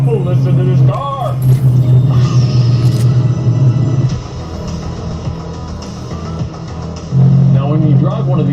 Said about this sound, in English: Oh, listen to this car!